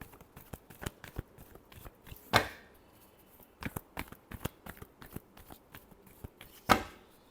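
Tarot cards being shuffled by hand, heard as quiet, scattered riffling flicks with two sharper snaps where the deck is squared, close and soft with no talking.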